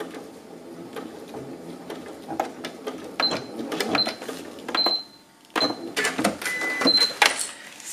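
A sewing machine runs in short reverse bursts while stitching a fabric bag, giving rapid mechanical chatter with brief pauses and sharp clicks between runs, close and fairly loud.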